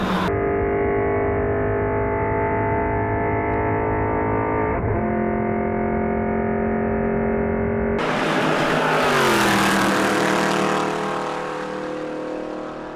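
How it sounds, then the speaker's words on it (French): Race car engines during a qualifying session, a loud sustained harmonic drone that drops in pitch partway through, then gives way to a rougher, noisier roar with a sweeping pitch change before easing off. "les voitures, elles sont en cours de qualification"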